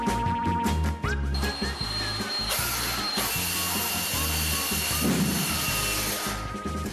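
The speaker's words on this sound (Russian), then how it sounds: "Берем шуруповерт." Cordless screwdriver drill running with a steady whirring motor that shifts in pitch as it works, close and loud, with brief changes in speed.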